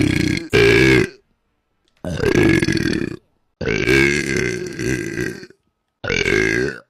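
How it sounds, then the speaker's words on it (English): A woman lets out a series of loud, drawn-out burps close to the microphone, four or five deep, gravelly bursts separated by short silences. "I can feel a burp coming in."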